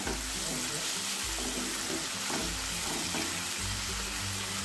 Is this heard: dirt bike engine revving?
no